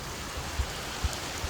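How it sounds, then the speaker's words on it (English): Steady, soft rain falls outside a Florida house, an even hiss with a few faint drips and no voices. "This is just some rain."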